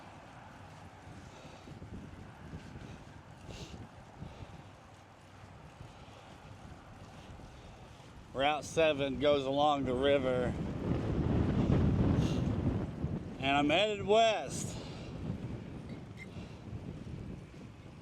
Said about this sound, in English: directly into a headwind that's coming out of the southwest